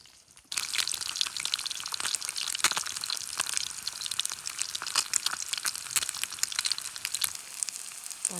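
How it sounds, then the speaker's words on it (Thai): Fish sizzles loudly in a pan at a forest campsite, with a dense crackling hiss and sharp spattering pops that start abruptly and continue throughout. "ก็ทอดปลานะคะทุกคน"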